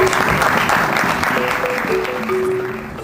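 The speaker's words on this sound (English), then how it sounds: "Ladies and gentlemen, another applause." Audience applause at a Cameroon National Day celebration in Eindhoven, a steady dense clapping from a crowd that carries through the whole stretch at full volume, with faint tonal sounds underneath.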